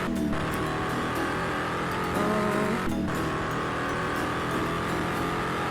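Engine and tire noise from a Ferrari driven in a Roblox drifting game, a steady loud drone with brief tire squeals and skids running throughout, no one talking.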